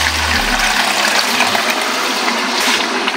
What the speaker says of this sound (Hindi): अब मैं पानी ऐड कर रही हूँ, जो कि ये पहले मैंने गरम कर लिया था।